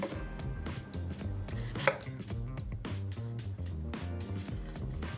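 A knife chops tomatoes on a cutting board in quick, steady strokes, close by, over soft background music.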